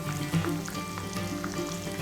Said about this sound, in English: I'm gonna finish frying up my chicken fingers.